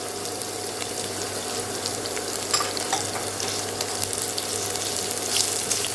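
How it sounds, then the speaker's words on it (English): Ginger is tossed and roasted in a pan with garlic for an Indian lemon pickle, producing a steady dense sizzle with scattered scraping and stirring ticks throughout, close and fairly loud, with no speech. "Keep tossing it so that it gets nicely roasted evenly."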